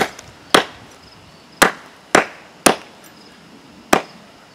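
Sharp chops of a tool biting into wood while shortening the handle of a hand-carved wooden spoon: five loud, close, isolated strikes at irregular intervals, each with a quick decay.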